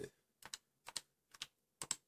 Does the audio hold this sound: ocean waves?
no